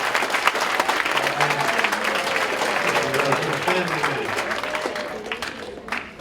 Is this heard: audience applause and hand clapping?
yes